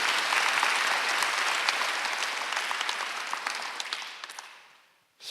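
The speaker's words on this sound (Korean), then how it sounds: "박수 좀 세게 쳐봐요" Worshippers at a Sunday church service clapping hard on request, a thick burst of applause from the whole congregation that gradually thins and dies away before a brief sound at the end.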